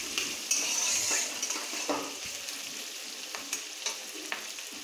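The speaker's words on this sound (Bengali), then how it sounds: "পেঁয়াজটা ভাজা হচ্ছে।" Onions sizzling steadily in a hot pan while a utensil stirs them, with scraping strokes and light metallic clinks over the continuous frying hiss, close and without speech.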